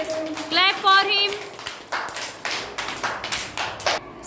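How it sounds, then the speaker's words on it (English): A classroom of children claps briefly for a classmate in a colour-identification lesson, several loose bursts of patter following an adult voice and a short tonal sound. "Clap for him"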